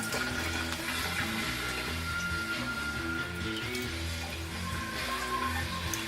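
Steady tap water runs continuously while pork hocks are rinsed before brining, a close, even wash with no talking.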